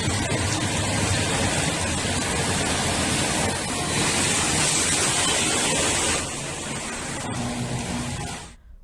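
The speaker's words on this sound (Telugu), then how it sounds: "ముంబై వ్యాప్తంగా భారీ వర్షాలు కురుస్తున్నాయి." Heavy rain pours down across Mumbai amid floodwater, a steady dense roar of falling water that holds loud and constant before easing slightly near the end, with no voices.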